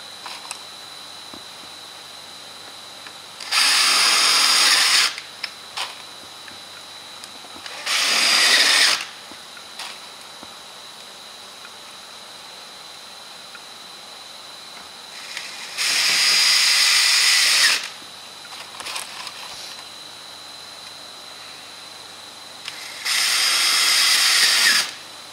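A power drill drives screws into wooden planks, three per plank, in four loud bursts of whirring spaced several seconds apart, with quiet pauses between.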